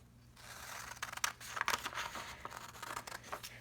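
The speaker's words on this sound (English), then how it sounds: "then you take scissors and cut that off so that you're left with a square" Scissors snip through paper to trim it into a square for a 3D letter art project, a few close crisp cuts and crinkles over a quiet room, with no talking.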